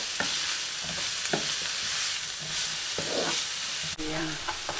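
Fish fillet and shrimp with ginger and spring onion sizzle steadily in a pan while a utensil scrapes and stirs, sounding a few loud knocks against the pan over the constant hiss.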